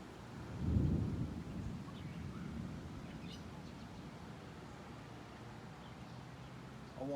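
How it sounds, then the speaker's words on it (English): Thunder rumbles low during an afternoon thunderstorm, one deep roll swelling early and then fading into a long distant grumble, with faint bird chirps above. "thunderstorms galore."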